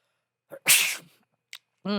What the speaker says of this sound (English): Sorry, I had to sneeze.